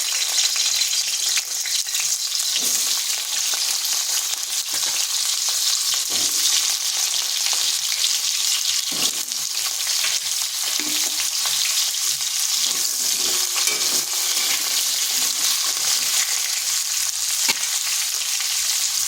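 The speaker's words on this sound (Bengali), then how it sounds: "তেলটা ভালো করে গরম করে নিয়েছি। দিচ্ছি কেটে রাখা কুমড়োগুলো।" Cut pumpkin pieces frying in hot oil, a dense continuous sizzle with occasional pops and spatula scrapes, steady and close for nearly twenty seconds.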